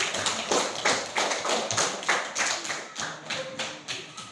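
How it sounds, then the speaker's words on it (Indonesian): A classroom of pupils claps for a classmate, a loud burst of close, rhythmic hand claps that stays strong for several seconds and then loosens into scattered claps. "kita beri tepuk tangan untuk Radit yang pertama."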